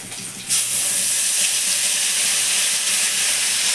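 Ginger, garlic and onion paste hits hot oil with a sudden surge into loud, steady sizzling and spattering that holds evenly after a quieter opening half-second; no voices.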